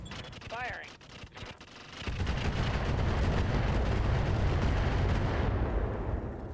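Mech weapons fire in a RogueTech battle: a brief mixed burst opens, then from about two seconds a heavy, sustained roar of artillery-like barrage and explosions fills the rest, loud and dense.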